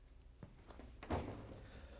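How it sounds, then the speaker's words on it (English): A GE dishwasher door swings open with a single soft thunk and a brief rattle about midway, quiet and close, with faint handling noise before it. "In order to change out the part, we have to open up the dishwasher door."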